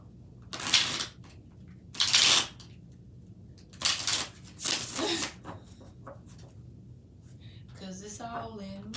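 Tarot cards being shuffled by hand, with several separate bursts of riffling and sliding spread across the stretch and a soft voice murmuring near the end.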